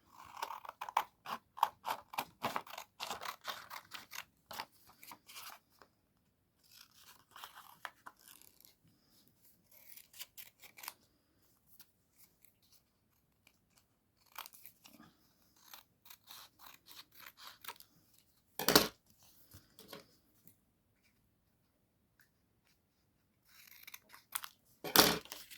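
Scissors snip through paper for a handmade ephemera craft project, a rapid series of close crisp cuts at first, then sparse pauses and a few louder isolated snips and rustles.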